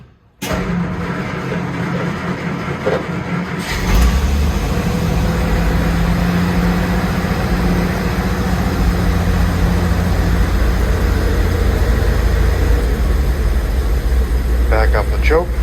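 A Willys FC-170 truck cold-started on a 45-degree morning after sitting five days, choke pulled, catches after a few seconds of cranking and settles into a loud, steady low rumble that runs without a break.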